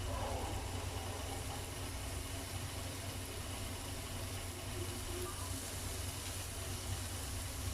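Prawn tikka on a pan sizzles with a quiet, even hiss after being flipped. The hiss holds steady throughout with no talking.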